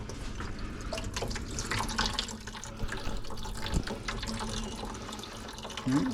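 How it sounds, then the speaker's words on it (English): Water runs slowly out of a house water line valve during a de-calcifying job, a soft continuous trickle and splash, fairly faint and close, with small drips and a brief faint voice. "There should be some water coming out of here."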